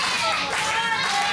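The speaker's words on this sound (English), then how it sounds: "Marcus Eriks trying to rally this crowd behind him" A wrestling crowd clapping, a dense continuous wash of many hands filling the room beneath a commentator's voice.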